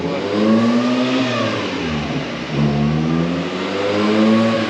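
A supercharged Nissan K11 Micra time attack car engine revs up and down in loud, swelling pulls, the pitch rising, dipping briefly, then climbing again, close by with no voices.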